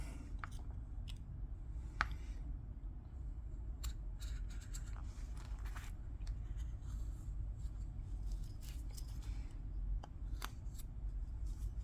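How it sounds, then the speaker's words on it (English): A knife carves a small piece of wood while shaping an open-book carving, giving quiet, close scraping and slicing strokes with scattered short clicks over a steady low background hum. "I'll try to cut that out again."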